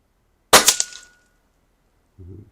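A single sharp report from a Kalibrgun Cricket 2 air rifle, sub-12 power, fired close by with a brief ringing tail, followed about a second and a half later by a short low thud.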